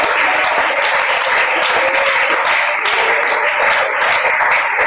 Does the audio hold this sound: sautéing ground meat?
no